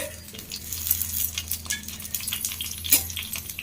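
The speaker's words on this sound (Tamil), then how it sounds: "மீனுக்கு மீனுக்கும் நல்லா தாராளமாக எண்ணெய் ஊற்றி வதக்கணும்" Fish frying in plenty of oil with curry leaves in a home kitchen pan, a steady low crackling sizzle with occasional light clinks of utensils, no talking.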